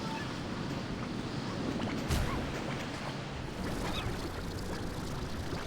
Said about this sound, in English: It's like especially windy.